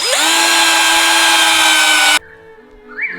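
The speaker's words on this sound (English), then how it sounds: "we're just going to use this to drill a bigger hole in this bracket so that we can fit the screw in" A power drill fitted with a step drill bit bores a hole through a metal bracket, a loud, steady, close whine for about two seconds that cuts off abruptly, followed by quieter low hum and a faint rising voice.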